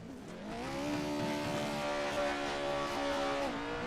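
Pro4 off-road racing trucks at Crandon roar in a steady, loud, sustained engine drone that rises slightly and holds, then eases off near the end, with no voices over it.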